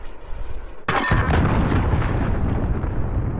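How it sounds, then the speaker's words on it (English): A loud allied cruise missile explosion in the Modern Warfare video game hits suddenly as a sharp blast, then a heavy rumble that keeps roaring for several seconds. "Allied cruise missile away."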